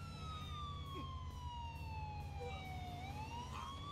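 An ambulance siren in the video game GTA 4, a wailing tone sweeping slowly downward then rising again, continuous and prominent over a rumbling engine and street background.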